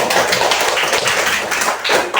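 A classroom of pupils claps for a classmate, a dense, steady patter of many small hands, loud and close, lasting a couple of seconds without talk.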